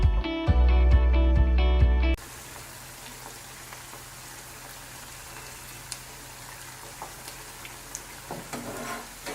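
Paneer pieces shallow frying in hot oil in a pan, a steady soft sizzle with scattered small pops and crackles; a brief burst of music at the start before the frying continues alone.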